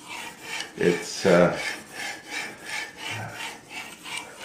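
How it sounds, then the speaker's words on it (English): A knife is drawn across a fine-grit sharpening stone, starting at the tip, in steady repeated rasping strokes that sound close and fairly hard, with a brief word spoken over them. "I don't know if you can hear it or not, but this stone even sounds different than the last one."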